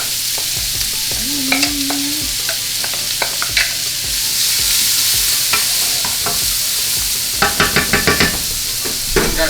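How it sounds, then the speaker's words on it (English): Vegetables wilting in about two-thirds of a stick of butter in a pan for blackened redfish, a loud continuous sizzle punctuated by repeated spoon scrapes and clatters against the pan, with a brief tonal squeak early on and no talk. "Go ahead and Add our vegetables and wilt those down."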